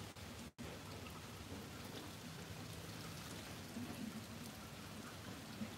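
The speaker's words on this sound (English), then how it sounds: "From our little corner of paradise that is very rainy today." Steady rain falls and patters on surfaces on a very rainy day in a tropical setting, a soft, continuous wash of drops with no voices over it.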